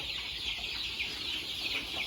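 Many chickens at a Thai poultry farm cluck and chatter in a dense, continuous flock murmur, steady and moderately distant with no talking.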